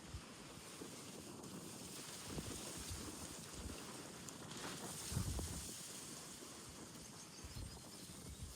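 Strong wind buffets the microphone outdoors in Scotland, a steady broadband roar with gusts swelling and easing throughout and no voices.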